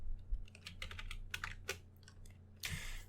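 Quick clusters of keystrokes on a computer keyboard, crisp and close, arriving in irregular bursts with short pauses and one final flurry, and no voices.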